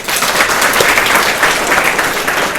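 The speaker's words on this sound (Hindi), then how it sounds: "साक्षी के पेरेंट्स के लिए भी तालियां हो जाएं।" A school audience of students, teachers and parents claps steadily in a dense, continuous burst of applause that fills the whole stretch without pause.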